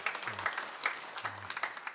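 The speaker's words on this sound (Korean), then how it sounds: "잠깐 일어나 주시면 우리 박수로 환영하겠습니다." A church congregation at a Sunday service applauds to welcome a new member, a brief burst of dense, steady clapping from many hands that fills the room at moderate distance.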